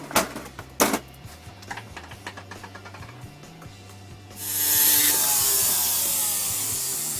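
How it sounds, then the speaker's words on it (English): A worn jewelry tube is cut off, starting with a few sharp clicks and light scraping, then a loud, steady hiss for the last few seconds. "what I'm going to do is cut that tube off"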